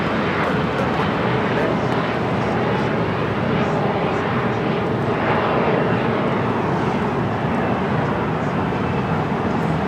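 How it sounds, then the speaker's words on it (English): An SAS Airbus A350 airliner arrives at LAX on the north side, its broad, steady jet roar loud and continuous throughout with no voices over it. "SAS A350 arriving on the north side."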